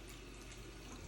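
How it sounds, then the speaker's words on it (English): Tap water runs into a sink to wet a cleaning cloth, a dense, steady broadband rush with no pauses, moderately close and fairly quiet throughout. "I'm gonna get my EnviroCloth wet with only water"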